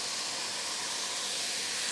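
Steady, loud sizzling hiss of vegetables stir-frying in a hot pan, continuous and close, with no pauses or voices.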